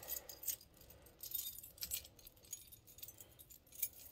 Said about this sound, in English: See if I remembered my keys.